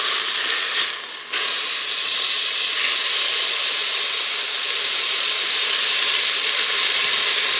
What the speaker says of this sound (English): looks like the Instant Pot is all fired up, ready to saute on high